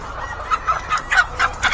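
A layer hen on a poultry farm clucks in a steady series of short, repeated calls close by, over a constant low background hum.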